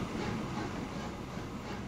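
A broad-gauge locomotive in Transport Fever 2 runs with a steady, low rolling rumble, fairly faint and unbroken throughout, with no voices.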